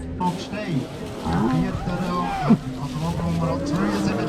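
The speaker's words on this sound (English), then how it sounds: "It's like a show from the nicest cows in the region." Cows lowing at a village cow show in Switzerland, with several moos rising over steady outdoor crowd noise and people talking nearby.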